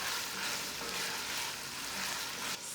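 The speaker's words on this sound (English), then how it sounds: "Potato needs little bit, couple of more minutes to cook, so we will let it cook" Potatoes cooking in a pan give off a dense, even sizzle that holds steady at close range, with no talking.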